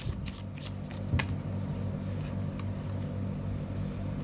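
Tarot cards are shuffled close by in a soft, continuous riffling flutter with a few sharper flicks, set over a low steady background hum.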